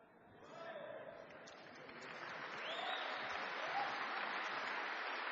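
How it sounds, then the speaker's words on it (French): Audience applause building through a tribute speech for filmmaker Pierre Falardeau, a dense wash of clapping that swells and holds steady, fairly distant and faint. "Mais là, applaudissez pas à chaque phrase"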